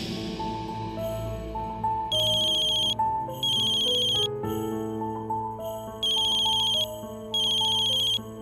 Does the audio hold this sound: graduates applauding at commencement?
no